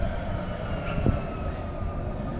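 A Calgary light rail train rumbles past at moderate distance on a winter day, a steady rolling hum with a brief squeal of wheels midway, no voices.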